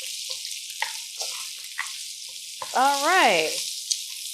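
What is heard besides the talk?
vegetables frying in a pan for vegan breakfast hash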